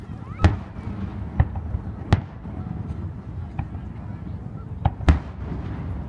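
Independence Day fireworks exploding outdoors at night: six sharp booms and pops spaced irregularly over a few seconds, loud and fairly close, over a low steady background rumble.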